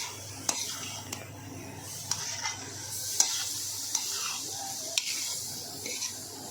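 A spoon stirs Manchurian gravy with Schezwan sauce in a pan, with sharp scraping clinks against the metal every second or so over a low, steady sizzle.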